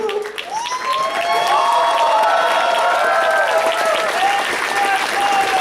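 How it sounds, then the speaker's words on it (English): Loud audience applause mixed with cheering and whoops, steady and sustained across the whole stretch, with a crowd roar beneath the clapping. "Hold your applause! Hold your applause!"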